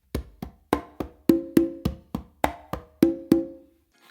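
Conga drums played in a funk tumbao pattern of sharp slaps and ringing open tones, about a dozen crisp hits at a steady moderate pace, some open tones sustaining briefly; solo playing, no talking.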